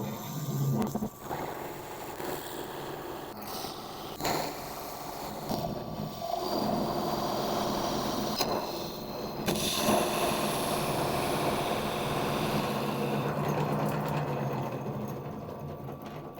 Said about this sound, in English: So I'll get out the Forstner bits and start hollowing out.